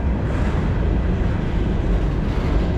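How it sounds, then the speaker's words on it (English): Steady low rumble of empty rail cars rolling along the tracks at Hinton station, continuous and fairly loud with no breaks or voices. "There's empty trains moving."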